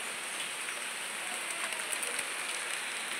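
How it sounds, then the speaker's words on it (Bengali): Heavy rain that has been pouring since the previous night over a village falls in a dense, continuous hiss, steady and even throughout, with no voices. "প্রচণ্ড বৃষ্টি হচ্ছে বন্ধুরা, আগের দিন রাত থেকেই এত জোরে বৃষ্টি হচ্ছে"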